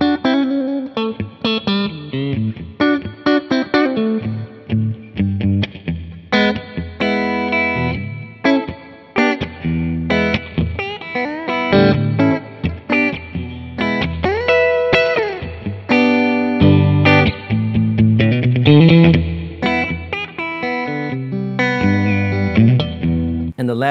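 Electric guitar played through a reverb pedal on a wet setting, a steady stream of picked notes and chords with a lush, lingering wash trailing each one, loud and continuous with no voices.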